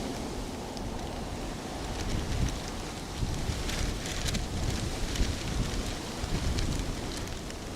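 Wind buffeting an outdoor microphone at Dublin Airport, a continuous rough rumble with gusty swells that rise and fall throughout, no talk heard.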